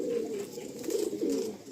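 A pigeon coos nearby, a low, throaty, rolling call that runs unbroken for under two seconds. Faint background hiss sits underneath.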